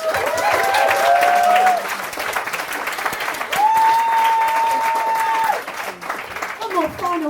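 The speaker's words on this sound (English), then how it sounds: "So let's give him a round of applause." Audience applause rolls through a hall after a talk on success, dense clapping overlapped by sustained tones and voices, dipping briefly near the end before picking up again.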